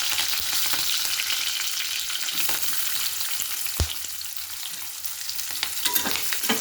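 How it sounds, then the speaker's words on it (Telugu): Chopped onion and green chillies frying in hot oil with cumin and curry leaves, a close, loud crackling sizzle broken by a few scraping stirs and one sharp knock, with no voices. "ఉల్లిపాయ, పచ్చిమిర్చి వేసాను."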